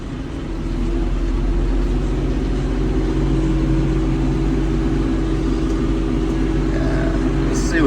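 A farm tractor engine drones steadily up close at a low, heavy hum, with subtle shifts in pitch as the revs are brought down and raised again.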